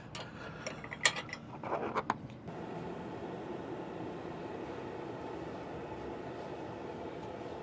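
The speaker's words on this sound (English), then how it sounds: "We're just pulling our pin out and dropping down to the appropriate height." A steel pin is pulled from a Weigh Safe 180 Pro 2-ball hitch mount in a 2.5-inch receiver, and the mount drops down: a few sharp metallic clicks and clanks close by in the first two seconds, then a steady low hum.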